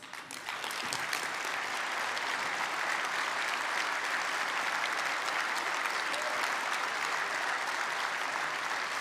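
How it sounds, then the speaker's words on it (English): Audience at the GMB union congress 2024 breaks into a round of applause. Sustained, even clapping from a large hall crowd swells within the first second, then holds steady and fairly distant for the rest. "Can they stand up, please, for a round of applause?"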